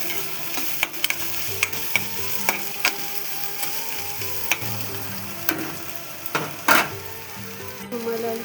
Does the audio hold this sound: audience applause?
no